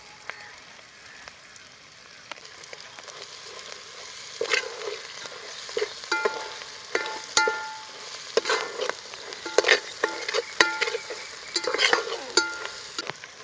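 Spices and ingredients fry in a pan for a Maharashtrian red lentil amti, a soft sizzle growing into busy, crackling stirring with repeated scrapes and clinks, close and without talk.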